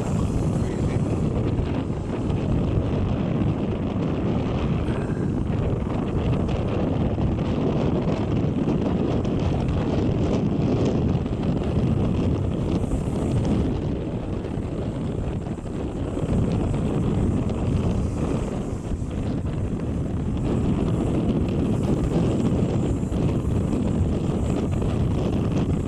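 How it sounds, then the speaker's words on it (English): Steady wind buffets the microphone on the open deck of the cruise ship Balmoral while docked in port, a loud continuous rush with gusty swells and low rumble throughout and no talking. "A little bit breezy this morning."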